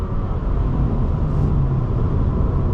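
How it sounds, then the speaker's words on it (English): A 2024 Subaru Impreza RS cruises at 70 mph on the highway, its engine a low steady hum beneath constant broadband road and tire noise inside the cabin. "The engine settles down here at 70 miles per hour"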